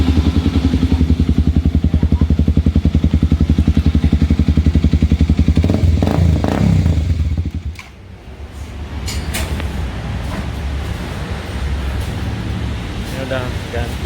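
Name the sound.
Aprilia Dtracker 250 motorcycle revving with aftermarket exhaust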